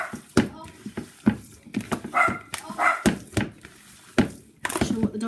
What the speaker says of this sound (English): Not sure what the dog's barking at.